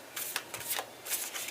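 Tarot cards are riffled and shuffled by hand in quick, close papery bursts, with no voices.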